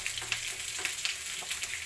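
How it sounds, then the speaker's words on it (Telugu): Tempering spices, dried red chilli, mustard seeds, cumin and curry leaves, sizzle and crackle in hot oil in a pan for drumstick-leaf rasam. The frying is loud and close, with a continuous hiss broken by small popping bursts. "కరివేపాకు వేసి పోపు పెడుతున్నానండి."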